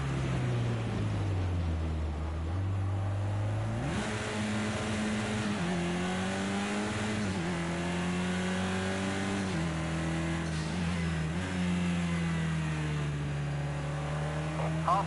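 Touring race car engines from a racing video game drone steadily throughout, pitch sliding up and down through gear changes with a sharp rise near the four-second mark, loud and continuous with no talk.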